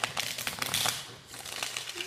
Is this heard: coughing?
no